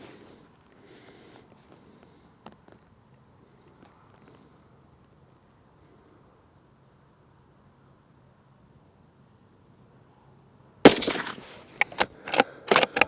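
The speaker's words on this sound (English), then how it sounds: "let's go and shoot those Seiko Game Heads first and see how we get on" A Browning X-Bolt 2 Nordic rifle fires Sako Game Head ammunition outdoors. After a long, near-silent wait, a loud, sharp report rings out near the end, followed by several more cracking bursts close by.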